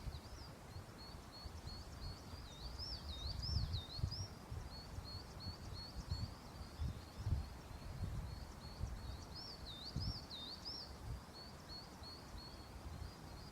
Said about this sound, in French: entendre les oiseaux en même temps?